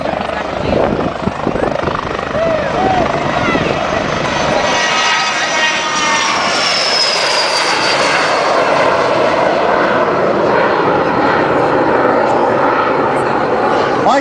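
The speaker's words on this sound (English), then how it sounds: "it looks like we have a Citation going to make a little flyby here" A Citation jet flying by near a medevac helicopter landing, heard as loud continuous rotor and engine roar that swells into a rising whine, with voices talking over it.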